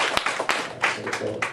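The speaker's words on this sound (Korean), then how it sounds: "박수로 한번 환영하겠습니다." A small church congregation in Suwon claps in welcome during a Sunday service, a short burst of scattered, uneven hand claps at moderate volume.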